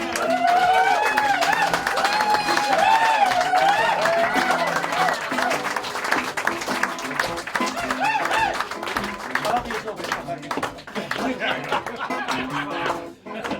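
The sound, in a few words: audience giving a big round of applause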